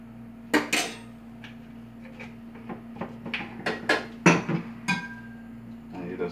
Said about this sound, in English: you just take your wooden spoon or your plastic spatula and you mix it up